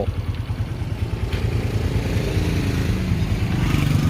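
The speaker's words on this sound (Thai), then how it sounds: "เดี๋ยวฟังเสียงเครื่องกัน เสียงเครื่องนะครับ เครื่องเงียบนะครับผม เสียงท่อ" A used Honda Wave125i motorcycle runs steadily after a kick start, its engine putting evenly and fairly loudly close by, with a quiet exhaust note and no change in pace.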